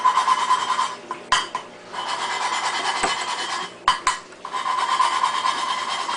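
Engine valves on a 420A turbo cylinder head are lapped against their seats, making a gritty rasping rub in repeated bursts separated by short pauses, close and fairly loud.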